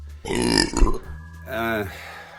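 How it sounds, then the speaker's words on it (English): A man lets out two coffee burps close to the microphone, a long low rumbling belch followed by a shorter, tonal one, with a brief pause between them. "why is it that I always get in front of the camera and then I get the coffee burps?"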